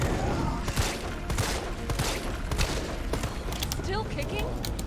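Rapid gunfire in the Resident Evil 3 video game, a dense run of sharp shots and mechanical clatter at moderate level over a noisy game soundtrack.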